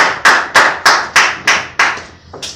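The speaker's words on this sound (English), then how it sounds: "Let's give Apostle Chris a hand clap of praise." Eight slow, loud hand claps in steady rhythm ring out close by in a church Sunday service, each with a short decay and no talk.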